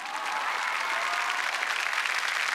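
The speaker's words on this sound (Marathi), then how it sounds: "जोरदार टाळ्या झाल्या पाहिजे जय जवान गोविंदा पथकासाठी" Audience applause for the Jai Jawan Govinda troupe at a Dahi Handi celebration on a Marathi comedy stage show: steady, dense clapping from a sizable crowd, continuous and fairly loud throughout with no pauses.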